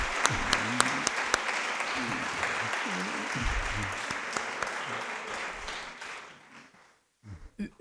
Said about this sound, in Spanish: Un aplauso para María Rosa.